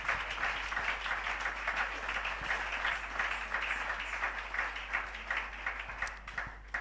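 A church congregation applauds continuously in a steady, dense wash of clapping that holds at an even level throughout, with no pauses.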